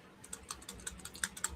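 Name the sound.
typing on a computer keyboard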